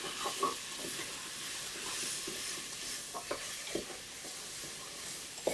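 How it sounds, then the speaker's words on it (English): Sweet potato hash with cinnamon and dried orange peel sizzles in a pan, a steady close hiss broken by scattered scrapes and clicks as it is stirred. "So just give it a stir. Let it cook down for a couple minutes."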